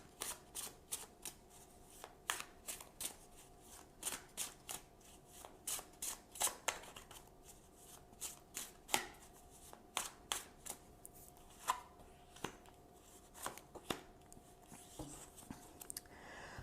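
Tarot cards are shuffled by hand in a quiet room, giving a long run of crisp riffling bursts and soft slaps at a steady, uneven rhythm, close and fairly faint, with no talking.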